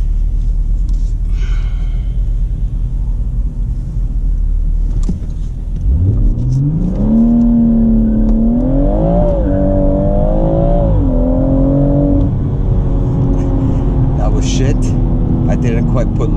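A BMW M140i launches hard from a launch-control start, its engine note climbing loudly through the revs and holding a strong, rising roar for several seconds.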